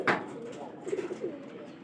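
A pigeon coos softly and close by, in low rounded repeated notes over a faint background.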